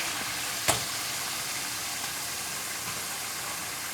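Potatoes and okra fry in a pan with a steady, even sizzle that holds through the whole stretch. One sharp tap sounds early on, and no voices are heard.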